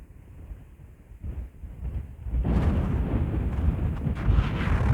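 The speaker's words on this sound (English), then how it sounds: "A little bit of a breeze, maybe 10 or 12 knots, that's it." A light breeze of about 10 to 12 knots blows across a remote Shiant Islands hilltop, buffeting the microphone with low rumbling gusts that swell noticeably louder halfway through and stay strong.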